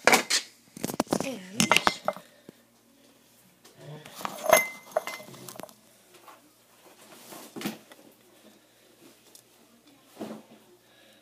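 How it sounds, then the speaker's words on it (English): Metal spoon picked up and clinking against dishes while a pet's breakfast is prepared: several bright, sharp clinks in short bursts with quiet gaps, close by, alongside a few spoken words. "Now I have to grab Fluffy's spoon"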